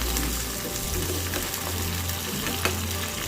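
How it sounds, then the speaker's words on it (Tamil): Garlic cloves sautéing in a pan for a village-style dried fish curry, a steady close sizzle with faint stirring scrapes throughout. "பூண்டு பல் சேர்த்துட்டு இதை வந்து கொஞ்சம் வாசனை வர வரைக்கும் ஒரு 2-3 நிமிஷம் நல்லா வதக்கிக்கலாம்"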